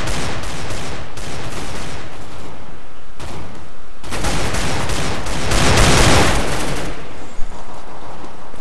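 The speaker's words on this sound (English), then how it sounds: "God, that SCAR is a badass gun." SCAR rifle fire in Counter-Strike: GO, loud sustained bursts of rapid shots with short gaps, dense and close, with no talking over it.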